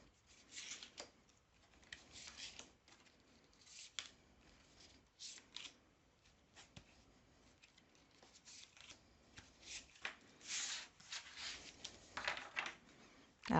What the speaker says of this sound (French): On y va, je remélange.